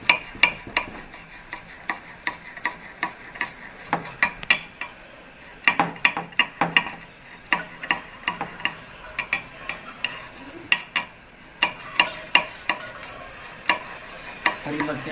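Chicken white karahi simmering in a pot on the stove, with soft bubbling beneath a run of sharp, irregular clinks and taps of a utensil against the pot, fairly close and with no speech.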